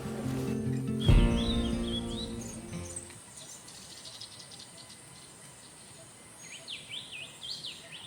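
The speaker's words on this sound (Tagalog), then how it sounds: "Tapos ang dami pa naming naririnig na huni ng mga ibon." Birds chirp and trill intermittently in open air along a forest trail at Lake Holon in the Philippines, with a louder sustained tone early on and insect-like hum in the background.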